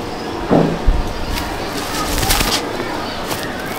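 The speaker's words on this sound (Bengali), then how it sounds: "এবার একটা আমরা কালাঙ্কা পায়রা শখ করাচ্ছি।" Kalanka pigeons coo in a loft in low murmuring calls, with a brief flutter of wings and people talking nearby.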